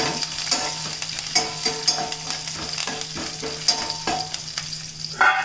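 A tadka tempering fries in a pan with a close, steady sizzle and crackle, broken by regular stirring scrapes and clinks of a spoon against metal. No talk is heard.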